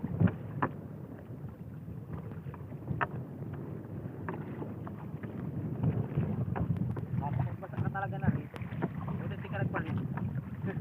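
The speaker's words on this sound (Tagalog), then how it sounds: "Medyo malakas ang hangin at medyo maalon" Steady blustery wind roars across an open microphone out on a rough sea from a fishing boat, with boat noise and a few faint voices underneath.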